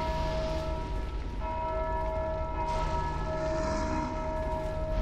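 A bell tolls inside the Dark Souls 2 video game, its sustained metallic ring humming steadily with layered overtones over a low rumbling background for the whole stretch, with no talking.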